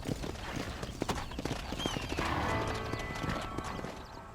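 Hoofbeats of a horse clip-clopping at a gallop in the Red Dead Redemption western video game, with an occasional neigh, fairly close and steady over a busy outdoor backdrop.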